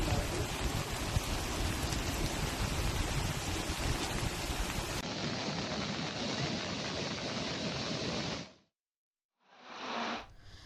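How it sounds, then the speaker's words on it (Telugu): Torrential monsoon rain pours down in Ramayampet, Medak district, as a loud dense roar that steps down partway through, then cuts out before a brief return. "మెదక్ జిల్లా రామాయంపేటలో కుండపోత వర్షాలు కురుస్తున్నాయి."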